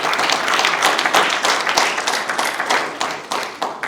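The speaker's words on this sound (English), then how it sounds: "So you must clap for yourselves for doing a good job." Conference attendees at a Rwanda national conference and anniversary celebration clap for themselves, a close, loud burst of many hands with individual claps audible, tapering slightly toward the end.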